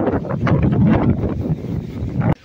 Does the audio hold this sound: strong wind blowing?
yes